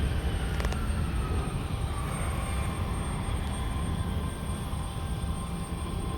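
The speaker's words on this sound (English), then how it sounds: "I see a tiny jet landing." A small Cessna jet comes in to land, heard as a steady roar of aircraft engines that fades slightly toward the end. No talking is heard.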